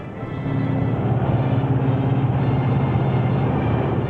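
A Lockheed L-1049 Super Constellation drones along on a single piston engine, a constant low rumbling hum with a slightly pulsing texture, steady and unbroken, with no talking.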